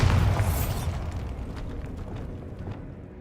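The Bombarda blasting spell goes off in the video game Hogwarts Legacy as a loud, close booming explosion with a rumbling tail that fades over a few seconds. There is no talk over it.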